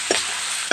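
Chopped tomatoes tipped into a hot frying pan, giving a steady bright sizzle with two short louder bursts of hiss and stirring at the start and end, close by with no talk.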